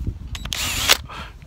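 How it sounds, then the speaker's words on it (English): Handheld power drill fitted with a small wood bit, used while building a lacing setup for canoe flotation bags; short whirring bursts with a louder grinding surge near the end, close and fairly quiet. "it's time to drill. I've got a little wood bit"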